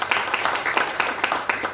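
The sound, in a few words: applause for God during online church service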